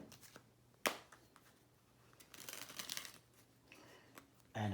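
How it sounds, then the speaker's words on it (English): A deck of Monopoly Deal cards is shuffled by hand at close range, with soft riffling bursts, a sharp snap and a final flurry of card noise, all faint and with no talking. "a dealer who will shuffle a deck and deals 10 cards face down to each player"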